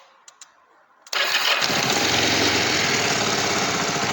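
A Kawasaki Vulcan EN 500 motorcycle engine cranks and fires after a second of near silence and a couple of clicks, then settles into a loud, steady idle.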